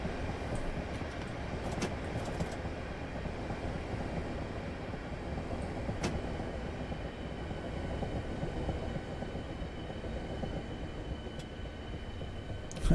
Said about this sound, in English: Right, train coming in.